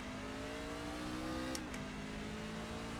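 Race truck engine in iRacing at Martinsville, a steady revving drone held at one pitch, then dipping slightly as it shifts midway, loud and continuous with no talk.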